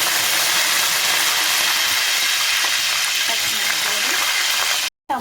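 Whole spices, peppercorns and curry leaves frying in hot oil in a kadai for a country chicken curry, a steady broad sizzle that continues loud and unbroken before cutting out briefly near the end.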